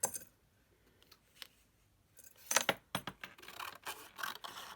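Paper card for an elegant birthday card is trimmed down. A few faint, quick snipping and scraping sounds come in short bursts after a near-silent start.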